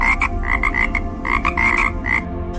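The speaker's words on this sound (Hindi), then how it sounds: "ब्रह्मोत्तर के मेंढक" A frog croaks in a rapid series of short, raspy calls, loud and close, coming in quick clusters with brief gaps and no voices.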